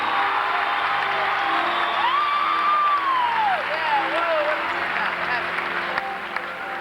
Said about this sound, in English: let's give them another round of applause because they deserve it